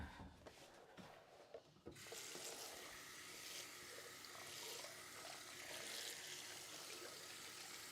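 Tap water runs and splashes steadily while a green-stained craft mat is rinsed in a sink. A rubbing, scrubbing clatter comes first, then a continuous, close hiss of flowing water.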